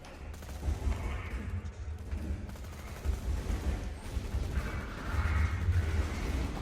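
Rapid gunfire from the Ogre assault rifle in Borderlands 2, a dense continuous stream of loud shots with low booming thumps throughout, no speech.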